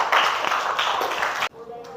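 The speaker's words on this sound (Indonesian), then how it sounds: "Oke, berikan tepuk tangannya" Students applaud in a classroom during a teaching lesson, a short burst of loud, dense clapping that cuts off sharply after about a second and a half, followed by quieter room sound.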